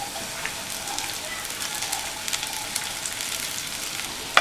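Poha (flattened rice) being stirred into masala frying in a pan, giving a steady close sizzle with scattered crackles, faint scraping and one sharp clack near the end.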